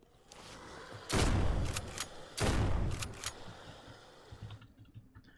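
Video game gunfire in a zombie survival game: two long, heavy bursts of rapid automatic fire, plus a few sharp single shots between them, loud and close, trailing off into quieter game ambience.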